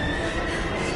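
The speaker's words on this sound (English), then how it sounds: "We gotta get on that train, Ethan." A train rushes past in the video game Heavy Rain, a loud, dense rumble with a steady metallic screech of wheels that fills the whole moment.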